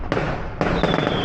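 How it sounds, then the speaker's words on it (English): A firework strikes a car on a narrow rural road during a lantern festival in China, two sharp loud bangs about half a second apart, with crackling bursts trailing after the second. "A firework just hit my car."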